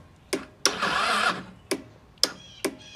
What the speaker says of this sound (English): The starter should kick over if the solenoid switch is good.